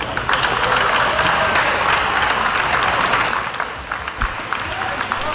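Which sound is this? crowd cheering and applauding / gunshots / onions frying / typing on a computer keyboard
crowd cheering and applauding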